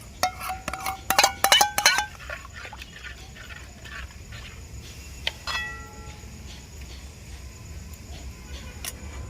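Yogurt poured into warm milk and stirred in a clay pot for kheer sweet curd, with sharp clinks of a spoon and ceramic in a quick cluster early on, then quieter scattered taps over a low background hum.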